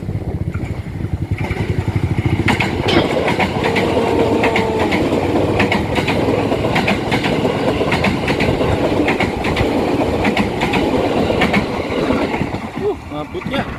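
A train rushes past close by at a small-alley level crossing in Indonesia, a loud continuous roar with clickety-clack wheel rhythm and wind buffeting that eases toward the end.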